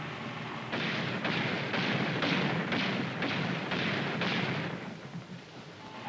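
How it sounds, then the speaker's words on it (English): Gunfire in a 1950s war drama: a rapid series of about eight heavy, evenly spaced thudding shots, loud and booming over a constant hiss, fading slightly at the end. "Gunfire. They must be shooting at the life raft."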